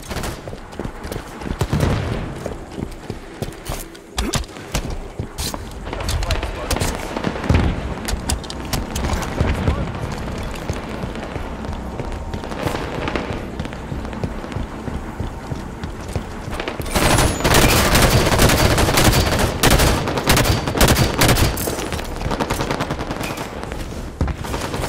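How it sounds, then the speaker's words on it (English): Enemy Warthogs firing their guns in a Halo 5 Warzone battle: dense, rapid bursts of gunfire rattle almost continuously, growing heavier toward the end, with scattered booms mixed in. "Enemy Warthogs firing!"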